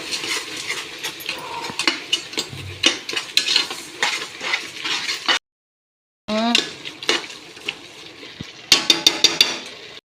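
Ginger and garlic fry in a pan for chicken biryani while a spoon scrapes and clinks against the metal, giving uneven stirring strokes over a soft sizzle, close and fairly loud, with a brief silent gap midway.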